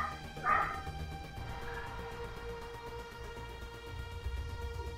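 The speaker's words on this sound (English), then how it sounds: "Very loud dog, very annoying." A loud dog barks in the video game Mass Effect. One prominent bark stands out early, followed by a fainter one over a steady humming game ambience, with no talking.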